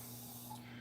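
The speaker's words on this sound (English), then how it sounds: "I'll spray it with my Urban Decay setting spray." An Urban Decay makeup setting spray gives one short, close, soft hissing mist spray, heard alone in a quiet room.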